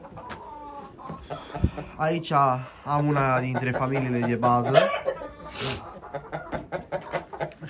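A Wyandotte rooster, a national champion bird, with his hens gives low clucks and a drawn-out crowing call near the middle, while someone speaks steadily over and around the birds.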